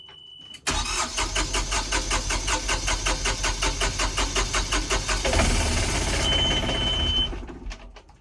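The diesel engine of a Hallberg Rassy 352 sailboat cranks over in a long, rhythmic series of even starter pulses, loud and close, then rumbles briefly before stopping; a faint tone is heard at the start and end.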